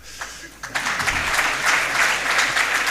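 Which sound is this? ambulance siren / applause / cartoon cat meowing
applause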